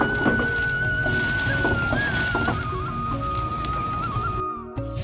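Pieces of ridge gourd frying until crisp in a pan: a continuous, busy crackling sizzle, close and fairly loud, with a thin whistling tone running above it and a brief dip near the end.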